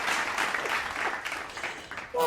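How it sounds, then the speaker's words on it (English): Canned applause effect on a sports talk show greeting a guest, a busy wash of clapping that runs steadily for a couple of seconds before fading under a voice near the end. "The applause."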